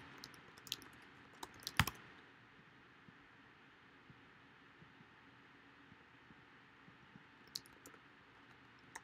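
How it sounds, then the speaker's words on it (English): Quiet, light keystrokes on a computer keyboard tap out a short search word, with a few isolated clicks and a sharp clatter near the start over faint background hiss. "So just going to type in canonicals."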